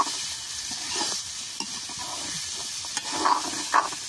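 Potatoes for a singara filling sizzle steadily in a pan outdoors while being stirred with a makeshift cutting tool in place of a spatula, with close scraping and a few sharp clinks against the pan.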